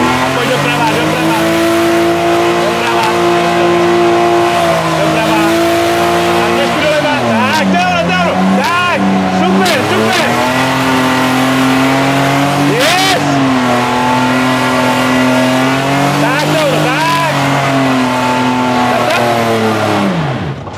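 A drift car's engine screams under hard throttle while its tires squeal and slide continuously, the pitch dipping and climbing as the car swings through loud, close slides.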